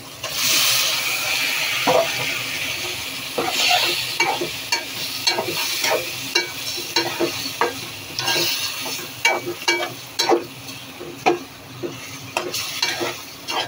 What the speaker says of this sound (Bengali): এখন লইট্টা মাছগুলো আমি দিয়ে দিচ্ছি।